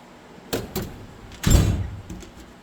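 A Snap-on KCP1423 toolbox socket drawer, metal and loaded with sockets, slides open with a few soft clicks and a louder rolling rumble of the drawer, heard close with no speech.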